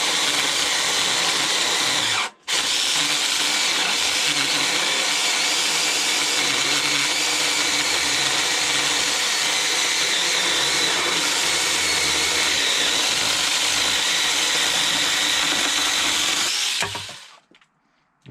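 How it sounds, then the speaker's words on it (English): Sainlogic battery mini chainsaw with a 6-inch bar cutting a maple hardwood branch while pruning, a loud sustained motor whine and chain buzz that dips once briefly, runs steady, then cuts off at the end. "We're cutting maple"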